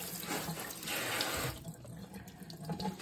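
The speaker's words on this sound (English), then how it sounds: "you're going to want to put them in the colander and give them a rinse." Cold tap water runs steadily into a sink as produce is rinsed in a colander, a dense, continuous splashing hiss that swells briefly midway and carries on without any voice.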